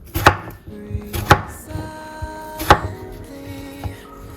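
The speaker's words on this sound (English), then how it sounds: "I'm gonna dice 2 potatoes." A knife dices potatoes on a cutting board, giving a handful of sharp, irregular chops close by with short pauses between them and no talking.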